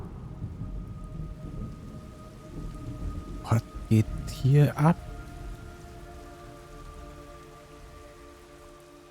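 Rain and rolling thunder in the stealth video game Metal Gear Solid Delta: Snake Eater, a steady wet patter with a cluster of sharp thunder cracks in the middle, someone talking over it.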